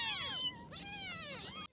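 A rescued cat meows repeatedly and loudly up close, three drawn-out high-pitched cries in quick succession with no talk over them.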